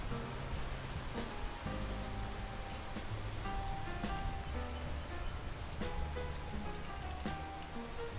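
Rain in the video game Peak: a soft, steady patter of drops falling continuously on surfaces, faint and even throughout with no voices.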